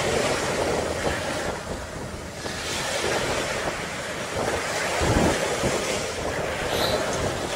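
Steady roar of ocean surf breaking on Klotok Beach, loud and continuous with surging swells and foam and a wind-blown rumble over the microphone.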